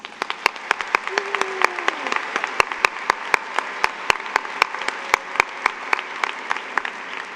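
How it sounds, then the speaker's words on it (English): A modest round of applause at a high school graduation ceremony, soft steady clapping from a crowd punctuated by sharp, distinct individual claps close by, with a faint voice or tone briefly audible. "Please join me in welcoming them with a round of applause"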